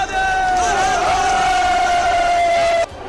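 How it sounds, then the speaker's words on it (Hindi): A crowd in Shimla chants the Hindu slogan Har Har Mahadev, producing loud, sustained unison shouting that holds a steady pitch for about three seconds, then cuts off abruptly. "हर हर महादेव के नारे लगे।"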